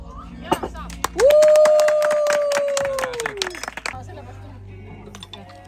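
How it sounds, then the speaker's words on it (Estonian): Scattered claps from a small group at a Midsummer celebration, cheering a rooster, rising alongside a loud drawn-out whoop and lively chatter, then fading as talk resumes. "nüüd ma soovin kõva aplausi meie kukale"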